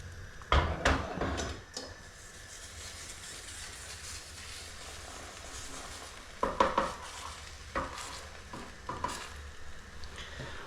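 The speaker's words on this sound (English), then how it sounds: "So you can see, slowly cooking." Food cooking slowly in a non-stick frying pan with a steady low sizzle, broken by a few sharp scraping stirs early on and again in later clusters, close by and without talk.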